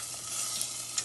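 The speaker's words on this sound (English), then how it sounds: "then you're going to whisk that until your butter and chocolate chips are melted" Butter and chocolate chips being whisked as they melt in a pan, a brief steady soft sizzle with a couple of light whisk taps.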